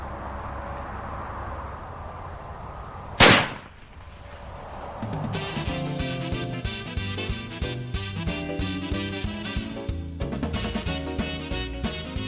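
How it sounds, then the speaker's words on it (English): A single sharp, loud rifle shot from a .44 Magnum firing a 240-grain semi-jacketed soft point through a CVA 22-inch barrel at a 50-yard range, followed by a quick decay and then faint background sounds. "44 Magnum. 240 grains, semi-jagged with soft point, firing through a CVA, 22-inch barrel, 50 yards so down range."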